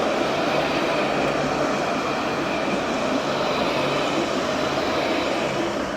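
Continuous broadband rumble of a tram arriving nearby in Dublin, steady and fairly loud throughout, with no voices.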